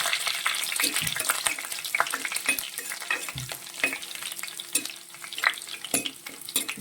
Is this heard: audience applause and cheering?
no